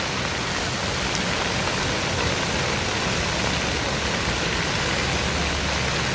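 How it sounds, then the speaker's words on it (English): A steady, broadband rush of falling water from a waterfall in the indoor garden at Gaylord Opryland in Nashville, unbroken and fairly loud for the whole stretch with no voices. "There's one of the waterfalls right there."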